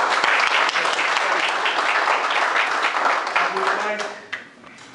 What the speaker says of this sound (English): And let us give a round of applause for Mr. McClendon for putting this on